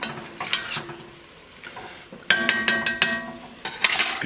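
Garlic being stirred into mushroom soup in a pot gives a series of sharp metallic utensil scrapes and clinks against the pot, coming in irregular bursts over a soft simmering sizzle.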